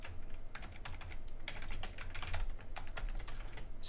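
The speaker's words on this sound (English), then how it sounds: "I can't type when people are watching." Computer keyboard typing in steady, fairly dense runs of clicks over about four seconds, close and moderately loud with no voices.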